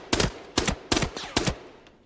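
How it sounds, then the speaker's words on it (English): Rapid gunfire in the shooter game Arena Breakout Infinite, four loud, close shots spaced evenly with sharp attacks and short tails, one carrying a whining bullet ricochet off a helmet. "what you just heard there, that's a ricochet"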